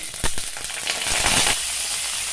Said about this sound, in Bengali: এখন এই তেলের মধ্যে ছেড়ে দেবো পটল।